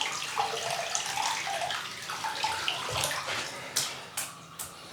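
Tap water runs steadily into a basin while a shaving brush is wetted underneath, a continuous close splashing stream with a few sharper splashes near the end.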